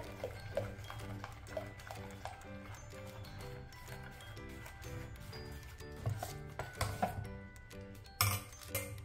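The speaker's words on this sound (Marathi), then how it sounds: "आता आपण हे 1 मिनिट थोडंसं फेटून घेऊया" Dhokla batter being whisked in a bowl, quiet rapid clinking and scraping strokes in an uneven rhythm, close but faint over a low steady hum, with a few sharper clinks near the end.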